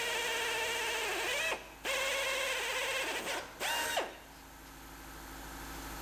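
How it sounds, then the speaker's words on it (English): A drill bores out spot welds on a Chevrolet Silverado body panel, whining loudly and close in two bursts that dip in pitch as the bit bites, followed by a quieter tail with no talk. "We'll drill out our spot welds."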